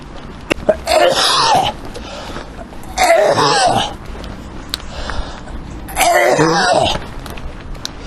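Three harsh coughing fits spaced a few seconds apart, close and fairly loud, with quiet background noise between them.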